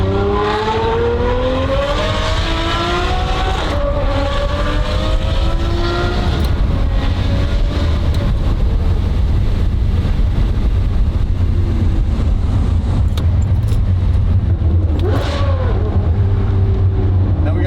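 A 600 HP Ferrari V12 with a Gintani tune revs loud and close, climbing and falling in pitch through several sustained sweeps over a constant heavy rumble, with no talking.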